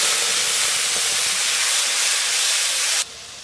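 Onion paste hits hot oil left over from frying fish and tempered with five-spice, giving a loud, continuous hiss for about three seconds before it abruptly drops to quiet.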